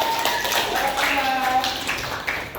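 Students in a junior high classroom clapping for a classmate after a math answer, a brief burst of scattered applause mixed with talk and a few voices.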